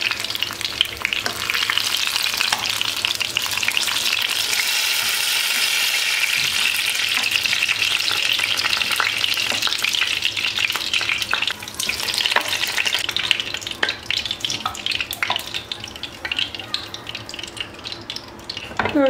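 Potatoes frying in oil in a pot on the stove, a loud, continuous crackling sizzle with bright spattering that swells and steadies throughout.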